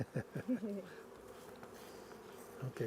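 Italian honey bees buzzing around an open hive during a beekeeping inspection, a steady close hum with a few louder passing buzzes near the mic, and brief talking in between.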